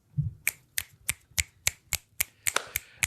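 Sharp finger snaps repeat in a steady rhythm, about ten crisp clicks spaced roughly a third of a second apart, close and clear with no talking.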